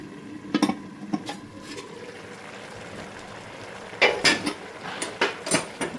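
Metal pot and lid clatter over a cooking bamboo shoot stir-fry, with sharp clinks near the start and a louder cluster of knocks and scrapes toward the end, no voices.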